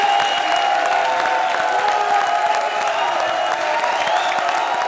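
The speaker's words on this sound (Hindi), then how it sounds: "ताली बजाओ।" Studio audience at a comedy stage show claps in steady, dense applause throughout, with a faint crowd murmur beneath and no talking over it.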